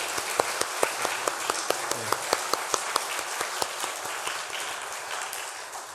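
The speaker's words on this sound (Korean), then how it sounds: "또 함께 박수하겠습니다" Congregation applause at a church revival meeting, a dense run of claps that starts firm and gradually thins toward the end, heard alone without speech.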